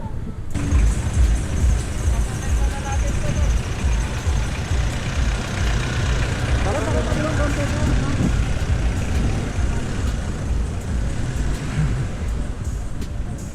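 Heavy road traffic held up by a motorcade, with trucks and cars rumbling and idling close by in a steady loud wash, while people talk over the engine noise.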